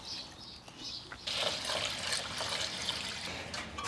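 Fluid poured into a big block Ford engine, a steady close liquid splash and trickle that grows fuller and louder partway through, with no talk.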